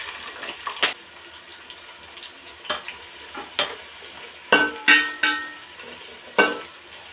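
Onions go into hot oil with cinnamon, cloves and cardamom for chicken biryani, sizzling under sharp bursts of stirring and spoon scrapes against the pot, several louder hits near the end; close, with no talking.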